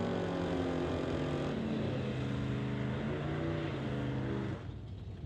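Drag racing car doing a burnout at an old-time drags event, a loud steady engine roar with harsh rasping tyre noise that cuts off abruptly near the end.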